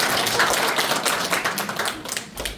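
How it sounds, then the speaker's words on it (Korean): An audience at a residents' report meeting claps to open the event, producing loud, close, broadband clapping that thins slightly toward the end. "주민을 위한 보고회를 여러분들의 뜨거운 박수와 함께 시작하겠습니다."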